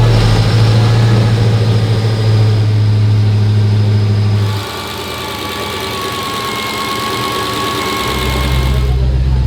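Supercharged 900hp Hellcat V8 idling close by, a loud steady deep rumble that dips briefly in pitch midway and then settles back, with voices talking over it.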